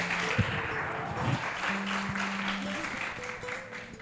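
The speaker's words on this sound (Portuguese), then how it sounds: "Aplauda o Senhor mais forte." Church congregation applauding during a Portuguese-language sermon, a soft, diffuse spread of clapping heard at a distance with faint tones and murmurs mixed in underneath.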